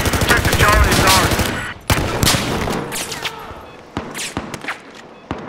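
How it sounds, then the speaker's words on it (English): Gunfire in the video game Battlefield 4, with rapid automatic bursts up close at first, then scattered sharp shots and more distant bursts. "there's some people shooting from the buildings"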